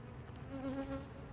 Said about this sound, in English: Lots of bees in the second brood box.